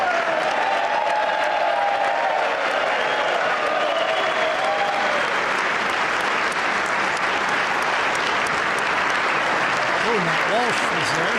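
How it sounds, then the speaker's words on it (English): A crowded chamber of Congress claps and cheers during a presidential address, dense continuous applause holding loud for over ten seconds, with a faint voice near the end. "cheers and claps"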